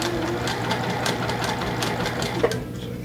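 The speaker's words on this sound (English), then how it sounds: "we're going to take this and sew a 1/4-inch seam on each side of that" A sewing machine stitches a quarter-inch seam on quilt fabric, a rapid, even mechanical chatter with a steady motor hum, close and continuous without talk.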